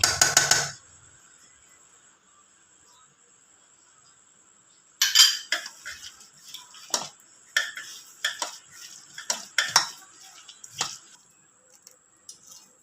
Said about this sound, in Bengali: আমি এটা হাত দিয়ে মাখবো একটু ভালো করে।